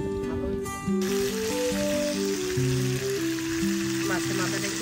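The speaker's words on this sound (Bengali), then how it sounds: "মাছের মাথাটা একটু ভেজে নিচ্ছি এভাবে" A fish head frying in a pan of hot oil at an open rooftop picnic, a steady loud sizzle running under background music.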